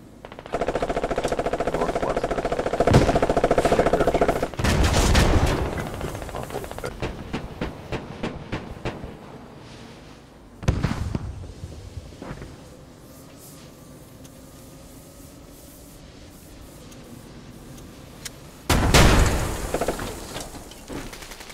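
Machine gun fire in Squad, a long steady rattling burst that fades into a low rumbling drone, with further heavy bursts and booming blasts breaking in later.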